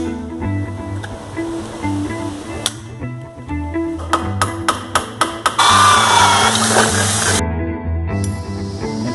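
A rivet is fastened on a homemade corn grater, giving a quick series of six or so sharp metallic clicks followed by a two-second loud rushing squeeze, all over steady background music.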